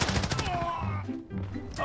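Shots from an SP-R 208 sniper rifle ring out in a first-person shooter video game, several sharp reports in quick succession with echoing tails and a brief gap before more.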